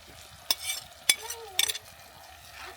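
Ground coriander, cumin, chili, turmeric and salt are stir-fried in a pan, with a few distinct scraping strokes and clatters of a spoon over a soft background sizzle.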